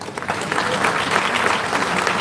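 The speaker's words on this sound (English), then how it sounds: "Let's keep the applause going for all of them" An audience at a birthday symposium gives loud, sustained applause, a thick continuous patter of many hands from start to finish.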